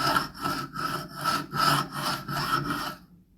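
A chisel is worked on a grinding station, producing about five rhythmic rasping back-and-forth strokes, close and fairly loud, that stop shortly before the end.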